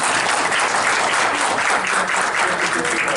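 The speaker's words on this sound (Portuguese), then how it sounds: "Uma salva de palmas para" Steady applause from a lecture audience, many hands clapping continuously at a fairly loud, even level from start to finish.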